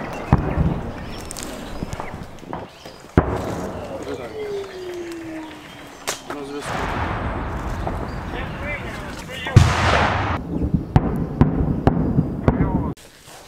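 Artillery preparation fire before a battle near Bakhmut: several heavy booms and blasts spaced across the clip, with one long descending whistle between them, loud and close over a rumbling background, with people talking at times.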